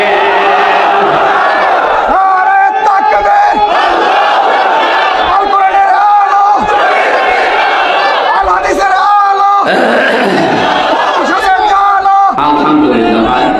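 A large gathering at a Bengali Islamic sermon in Kaliganj, Kushtia, roars a loud takbir chant in repeated surges, many voices shouting together close and full, swelling and falling in several waves.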